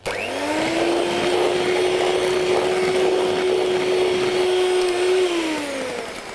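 Electric mixer whirring through banana bread batter of mashed bananas and bicarb, a steady close motor drone that spins up, holds for several seconds, then winds down.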